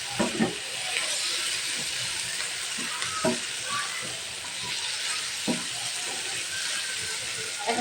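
Chicken sizzling in a pan with tomato ketchup and about three spoonfuls of tomato sauce, a steady loud frying hiss broken by occasional scraping stirs, close up and with no talking.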